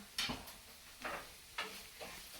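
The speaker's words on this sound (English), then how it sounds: "The garlic wants to be browned a little bit." Garlic browns in a pan for calamari with parsley and red pepper, a faint sizzle under four soft stirring scrapes spaced about half a second apart.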